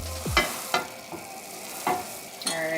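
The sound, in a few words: oyakodon mixture simmering in a pan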